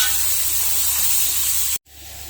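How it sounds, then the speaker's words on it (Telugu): Onions and green chillies frying in oil in a pan for fish pulusu, a steady loud hiss and sizzle that cuts off abruptly near the end, then resumes more softly. "ఈ ఉల్లిపాయలు బాగా రంగు మారేంత వరకు బాగా ఫ్రై చేసుకోవాలి"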